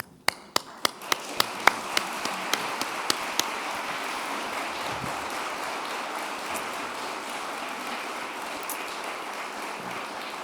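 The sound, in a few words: audience applause after a presentation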